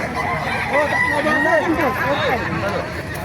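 Sweater gamefowl roosters crow and cluck several times close by, their calls overlapping under someone talking throughout.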